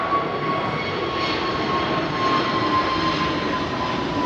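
An Air Canada Boeing Dreamliner at London Heathrow gives off a steady, moderately loud jet engine roar with a faint whine, constant throughout with no voices.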